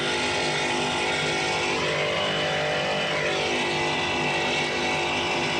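Cigarette racing powerboat Sheer Terror, driven by Bobby Shear, running in an APBA offshore race at Fort Myers, Florida, in 1983: a dense, steady engine roar that holds at full strength throughout, with no voices.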